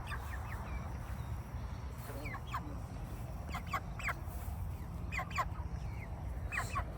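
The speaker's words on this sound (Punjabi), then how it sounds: "ਮੁਰਗੀਆਂ ਦਾ ਜ਼ਿਆਦਾ ਇਹਨਾਂ ਦੀਆਂ ਫਾਰਮ ਹੀ ਲੱਗਦੀਆਂ ਨੇ ਨਾ" Chickens cluck intermittently in short bursts over steady low background noise outdoors, with scattered calls from several birds.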